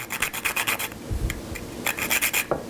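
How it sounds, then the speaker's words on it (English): A hard stick of Parmesan cheese is scraped over a bowl of oxtail soup in quick rasping strokes, a rhythmic series of close, gritty rubs with a short pause midway. "go to the store and buy a nice hard stick of Parmesan cheese. Scrape it over and get it in that soup."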